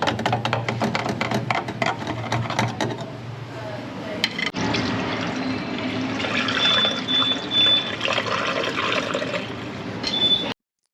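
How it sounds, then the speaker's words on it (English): Water flows and splashes through drain pipework just cleared of a grease blockage, a continuous trickling rush that swells louder partway through and stops abruptly at the end. "You can see that water running through here"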